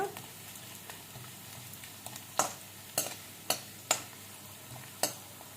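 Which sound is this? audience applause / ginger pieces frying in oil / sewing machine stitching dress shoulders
ginger pieces frying in oil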